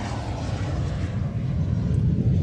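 Aircraft arriving at the Royal International Air Tattoo airshow produce a steady, loud engine roar that holds without breaks, deep and continuous throughout.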